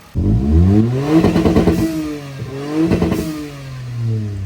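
A tuned turbocharged Toyota Raize starts up and revs hard, with loud, close engine roars that rise and fall in two strong bursts before settling toward idle.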